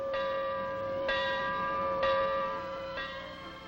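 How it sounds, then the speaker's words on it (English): A metallic warning gong struck at a steady pace, four ringing strokes about a second apart, each tone sustaining into the next. "A gong that sounds a warning."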